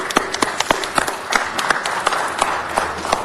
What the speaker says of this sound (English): let's give them all a huge, big round of applause